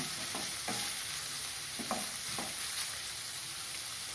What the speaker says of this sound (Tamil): அதை சேர்த்து வதக்கணும். ஒரு 2 நிமிஷம் வதக்கணும்.